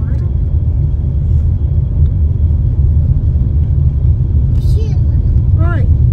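Car interior rumble while driving slowly through Peirópolis looking for a parking spot, a steady low engine and road drone running throughout with people talking over it.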